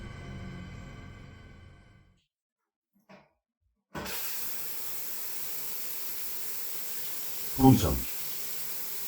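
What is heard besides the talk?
shower running in Rimworld video game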